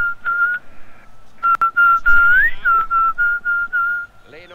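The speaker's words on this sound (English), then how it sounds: "I thought he blew the whistle then" A referee's whistle in a football video game shrills loudly in a long series of sustained and short blasts, one bending upward in pitch, with no talk over it.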